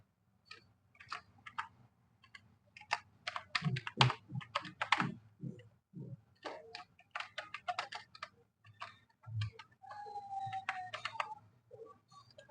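Keys clatter on a computer keyboard as someone fills in an online bank-details form for a government scheme, with bursts of quick, close clicks broken by short pauses, and no voices.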